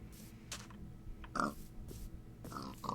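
Pigs in the Minecraft video game give short grunts and oinks, one louder snort standing out amid game noise and faint clicking.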